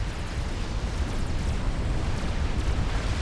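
A commander unit blowing apart after a plasma charge strike in the real-time strategy game Supreme Commander, heard as a sustained, loud rumbling blast with dense low-end roar and crackling debris for several seconds, no voices.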